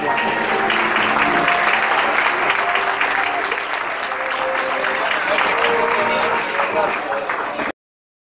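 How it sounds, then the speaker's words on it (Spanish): A large audience at an award ceremony in Buenos Aires gives loud, sustained applause, a dense continuous wash of clapping that stops abruptly at the end. "así que un fuerte aplauso más"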